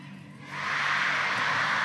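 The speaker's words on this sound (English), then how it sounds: "Listen to the crowd in here." A crowd in a table tennis arena at a men's singles WTT Champions match in Chongqing swells from low murmur into loud, sustained cheering and applause that fills the hall.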